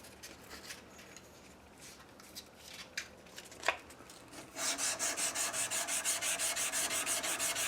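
An axe blade rubs against 500 grit Rhino Wet abrasive with cutting fluid, first in scattered strokes and then in a fast, even run of rhythmic rasping passes, close and clear with no talking.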